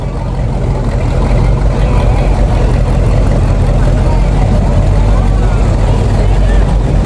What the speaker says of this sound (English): Classic Ford Starliner, Ford 27 cubic inch engine,